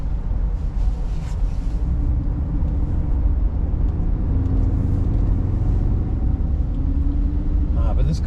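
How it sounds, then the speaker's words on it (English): A 1983 Jaguar XJ6 drives along with a smooth, steady engine hum and road rumble filling the cabin, constant and moderately loud beneath someone talking. "But this car is so nice to drive. It's very smooth. It's got decent power. The engine's smooth"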